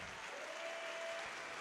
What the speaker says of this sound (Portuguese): Então dê a melhor salva de palmas para esta palavra.